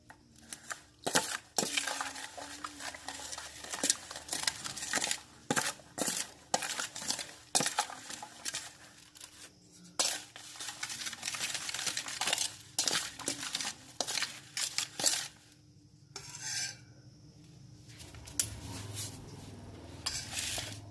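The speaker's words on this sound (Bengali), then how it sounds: "এবারে গরম জলের সাথে সাবান কুচিগুলিকে একটু নাড়াচাড়া করে নেব যাতে করে সাবানের কুচিগুলি অনেকটাই গলে যায়" Soap flakes being stirred into hot water in a metal pot for homemade dish wash liquid, a fast, busy clatter of a spoon knocking and scraping the vessel, close, with short pauses and a softer stretch near the end.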